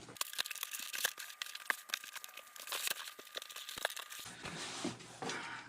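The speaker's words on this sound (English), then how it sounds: "Now you get to fold it in based on those new lines you just made." Cardboard being folded along freshly creased lines for a custom shipping box gives close crinkling and crackling. Sharp creaks and snaps come at irregular intervals, then shift to a brief rustling scrape.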